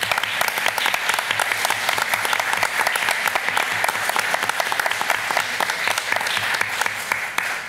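A school board meeting audience applauds student art prize winners and their teachers, a dense, steady wash of many hands clapping at an even level throughout, with no speech over it.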